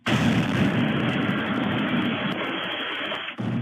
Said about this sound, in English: this video shows the exact moment several firefighters are blown back like debris as one of those natural gas tanks blows